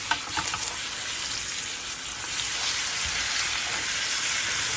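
A sous vide ribeye steak sears in a hot pan with a steady, loud sizzle and crackle of fat, a few sharper spits near the start, continuing without speech.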